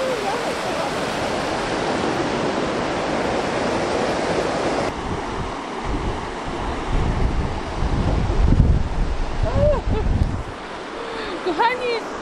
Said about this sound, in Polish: dzisiaj trochę wieje, jest chłodno